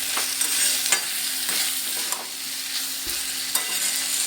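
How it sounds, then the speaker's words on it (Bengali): A spoon scrapes and stirs small fish curry in a pan, sending out a series of short clinks and scrapes over a soft, continuous sizzle. "আবারও আমি একবার নেড়ে দেব"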